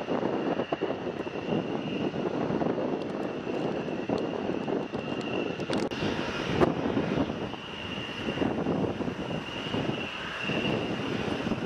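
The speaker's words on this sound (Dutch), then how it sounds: "dat vliegtuig dat staat daar achter een enorme geluidswal" An airplane engine runs steadily behind a huge noise barrier at a drilling site, giving a continuous broadband roar with a faint high whine, fairly loud and unbroken throughout, with no speech.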